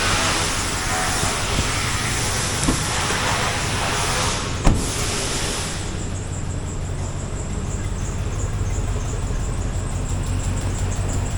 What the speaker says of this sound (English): the engine idles